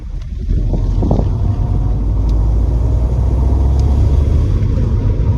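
A car with a badly worn gear stick driving on the motorway, its steady loud low engine and road rumble mixed with wind roar, holding constant throughout without talk.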